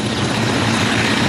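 Commando helicopters fly over a forested area in the Congo, a loud, steady rotor and engine roar filling the short stretch without voices.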